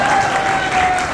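An audience at a live Sunil Pal stand-up comedy show breaks into applause, a brief, loud, continuous patter of many hands clapping with no speech over it.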